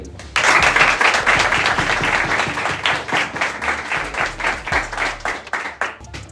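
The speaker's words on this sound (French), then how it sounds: "je profite qu'ils soient là pour les applaudir" A football club group applauds a team in a dressing room, loud close clapping that starts abruptly, turns rhythmic and pulsing, then fades out near the end.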